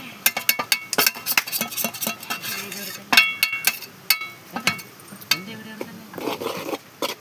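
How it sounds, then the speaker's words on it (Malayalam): A spatula stirs tender jackfruit thoran in a pan, making close, rhythmic scraping strokes with metallic clinks and a light sizzle underneath. "നമുക്കിത് ഇളക്കി സെറ്റാക്കി കൊടുക്കാം"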